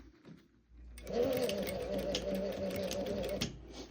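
Sewing machine stitching a tacking seam in a leather jacket sleeve being shortened, running steadily for about two and a half seconds with a fast mechanical whir, close and fairly loud, then stopping.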